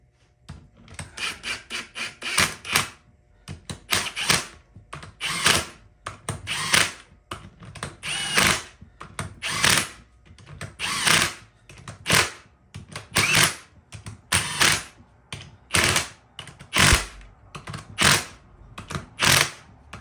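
A wrench tightens ring gear bolts during an ARB locker install on a Jeep JK front Dana 30, a close, repeated rasping ratchet in rhythmic strokes of a second or two with brief pauses.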